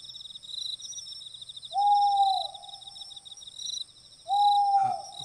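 In the horror video game Corpse Party, an owl gives two clear hoots a few seconds apart over a constant background of chirping crickets and insects in a quiet night setting.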